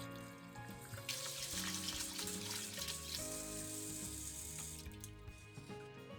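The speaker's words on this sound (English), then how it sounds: "I add the water." Water runs from a tap onto rice grains in a bowl for rinsing, a steady close splashing and gurgling stream that continues throughout with no one talking.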